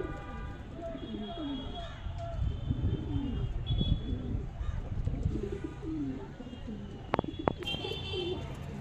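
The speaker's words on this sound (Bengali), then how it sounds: "নর পায়রা এটা আপনাদেরকে দেখাচ্ছে।" A male pigeon in a loft gives repeated low coos, moderately close, while someone talks intermittently over it and a couple of sharp clicks sound near the end.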